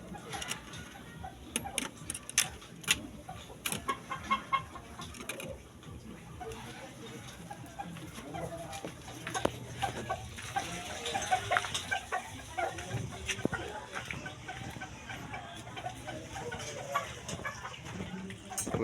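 Chickens cluck near their feed, a scatter of soft, irregular clucks and brief calls at low volume. Someone talks over them much of the time.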